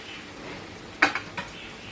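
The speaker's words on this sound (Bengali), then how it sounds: "ঢাকাটা আমি দিয়ে দিলাম" A lid set onto a cooking pot: a brief metallic clink followed by two smaller rattling taps, close and fairly faint over a low kitchen background.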